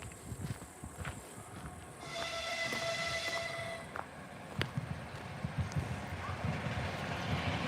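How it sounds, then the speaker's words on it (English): A long-distance train passes a small village railway station in Tavtimanovo, Russia: a rumbling approach, a sustained horn blast in the middle, then fading rolling clatter, heard from trackside outdoors. "It seems like long distance train."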